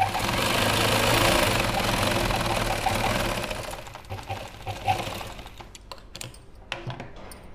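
A sewing machine stitches salwar fabric in a steady, loud, continuous whir for about four seconds, then stops, leaving scattered clicks and handling sounds of the cloth being moved.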